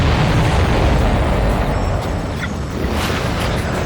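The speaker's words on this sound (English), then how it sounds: "Did you see that explosion?" A supply ship blown apart by a missile in the video game Ace Combat 7, a loud, sustained rumbling blast with crackling debris.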